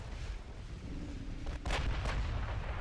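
Naval guns fire at a destroyer in the Ultimate Admiral Dreadnoughts naval warfare game, two muffled booms a beat apart over a steady low rumble of background noise.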